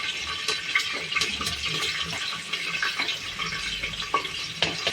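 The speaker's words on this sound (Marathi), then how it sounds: "आता याला छान हलवून घेऊया।" Garlic and ginger fry in hot oil with cumin, green chillies and curry leaves while a spoon stirs them around the pan, a steady sizzle broken by repeated scraping clicks, close and continuous.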